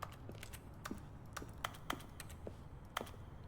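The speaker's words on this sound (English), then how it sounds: "I think the clicking sound is so annoying now" Scattered mouse and keyboard clicks from a game player at a computer come as quick, irregular taps, some closer and crisper, over a low steady background hum, with no voices.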